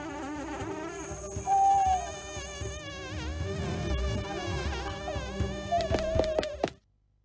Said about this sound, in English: Don't tell me it's mosquitoes.